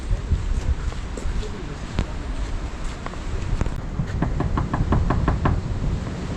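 Knuckles rap on the wooden entry door of an old castle in Ireland: a rapid run of about eight crisp knocks near the end, after a few scattered taps, over steady outdoor wind noise.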